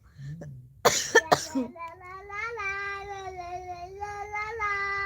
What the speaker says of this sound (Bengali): তো কাশি হয়ে গেছে